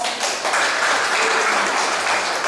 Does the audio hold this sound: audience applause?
yes